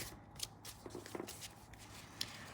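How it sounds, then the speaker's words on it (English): A deck of small playing cards is shuffled by hand, giving quiet, close, rapid riffling and flicking bursts with a couple of brighter snaps, and no talking. "So we'll just get these shuffled up,"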